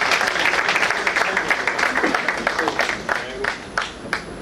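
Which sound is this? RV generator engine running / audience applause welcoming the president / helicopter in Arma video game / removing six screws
audience applause welcoming the president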